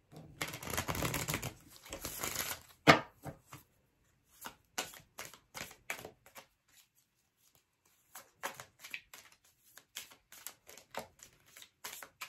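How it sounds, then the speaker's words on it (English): Tarot cards shuffled by hand during a reading: a dense riffling burst followed by a series of separate short taps and flicks with quiet gaps, close and fairly soft. "One more shuffle."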